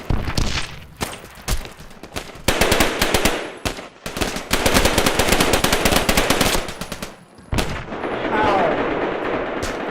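Video game gunfire rattles in loud, rapid automatic bursts separated by short pauses. A voice speaks briefly.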